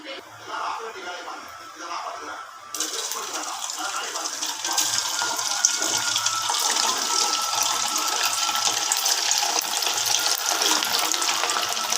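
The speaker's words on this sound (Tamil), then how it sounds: "இப்படி ஒவ்வொன்றா போட்டு பொரித்து எடுத்துக்கலாம்." Paneer pieces frying in hot oil in a kadai, a steady bright sizzle that swells after the first few seconds and carries on loud and continuous, with faint low background noise beneath.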